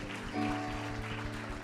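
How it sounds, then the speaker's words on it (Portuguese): Congregational applause for the Lord during a worship service, a dense, continuous clapping beneath sustained musical tones and low rhythmic thumps, fairly faint. "Dê uma salva de palmas ao Senhor."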